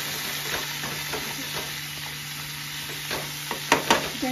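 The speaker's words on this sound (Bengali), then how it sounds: "দেখো বন্ধুরা ফুলকপি ভাজা হয়ে গেছে" Cauliflower fries in oil in a wok, with a steady close sizzle punctuated by scattered scraping stirs and a few sharper clanks near the end, no voices.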